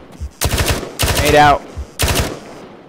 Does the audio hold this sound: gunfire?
yes